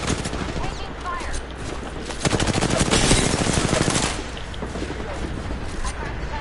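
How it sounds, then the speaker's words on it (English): Gunfire in the video game Apex Legends comes as dense, rapid automatic bursts with a sustained loud volley in the middle, while a voice talks over the combat. "Taking fire."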